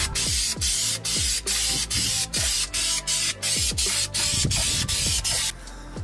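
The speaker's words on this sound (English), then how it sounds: "I'm just gonna spray paint it black just to protect it" An aerosol can sprays black paint onto roll cage mounting plates for a 2018 turbo Mustang build, delivered as a rapid series of short, loud, close hissing bursts separated by brief gaps, with no talking.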